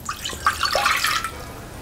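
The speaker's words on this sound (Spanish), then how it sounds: "Coloco el agua en un bol" Water pours into a bowl for baguette dough, a close, bright splashing and gurgling stream that swells after a brief start and runs on steadily before easing, with no voices.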